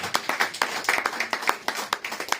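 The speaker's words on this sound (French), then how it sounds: "Acclamez pour la gloire de Jésus-Christ" A church congregation at a Sunday service claps in a quick, uneven burst of applause, many hands at moderate distance, with no speech over it.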